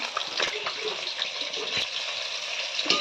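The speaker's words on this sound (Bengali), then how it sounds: "এখানে মাছ ভাজছে" Fish fries in a pan, giving a steady, hissing sizzle with scattered crackles heard close, while faint voices can be heard in the background.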